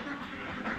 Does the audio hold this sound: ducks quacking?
yes